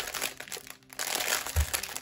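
Diamond painting kit packaging rattling and crinkling in handling, a short burst of close plastic shuffling with a brief pause and a soft thump.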